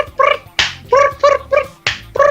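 A person imitates the morning calls of tit birds, voicing a series of about seven short, bright, nasal squawks in a quick uneven rhythm, close and loud with brief gaps between.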